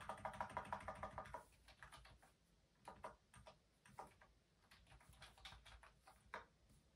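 A keyboard connected to an iPhone is typed on, giving a quick run of soft clicks that settles into slower, scattered keystrokes, close and faint, with no talking.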